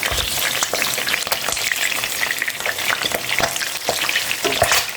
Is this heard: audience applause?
no